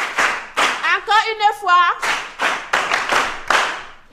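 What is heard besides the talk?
class of pupils clapping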